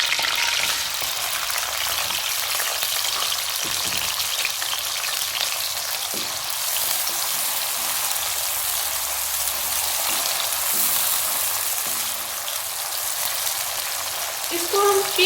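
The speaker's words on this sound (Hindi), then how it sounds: "इसको हम पिंक ब्राउन होने तक फ्राई करेंगे।" Sliced onions frying in hot oil in a pan until pink-brown for a chicken karahi, with a dense steady sizzle and occasional utensil knocks throughout, no talking.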